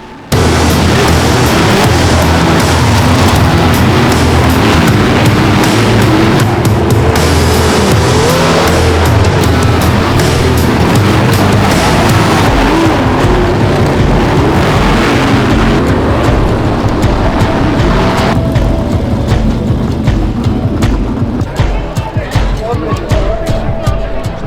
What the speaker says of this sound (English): The night continues with some good tight racing,